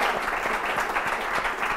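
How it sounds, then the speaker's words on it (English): Short burst of audience applause in a hotel venue for a live show guest, a crowd clapping steadily and fairly loudly, continuous and unbroken by talk. "Give Sue a big round of applause as well."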